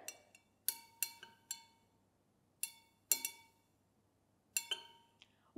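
A utensil clinks against a glass while cooking oil and water are stirred together, a string of sharp, ringing taps in irregular clusters with quiet gaps between.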